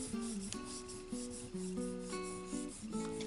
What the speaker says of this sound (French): Donc on essaye de gommer doucement.